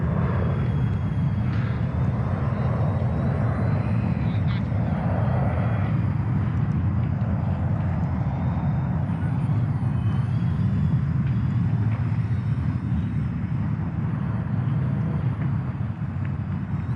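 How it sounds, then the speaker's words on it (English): An Eachine Flying Fish FPV foam model plane in flight, its small electric motor giving a continuous buzzing drone with wind rush on the microphone, steady and fairly close for the whole stretch, with no voices. "basically this plane flies fairly well"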